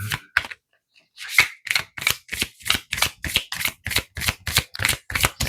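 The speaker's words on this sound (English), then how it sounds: "I have a hard time shuffling lately." A deck of tarot-style cards is shuffled by hand, giving a rapid series of about a dozen crisp riffling bursts in a steady rhythm after a brief pause, close and clear.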